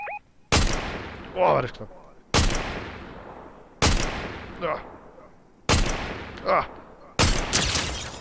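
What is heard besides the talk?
gunfire in the video game Fortnite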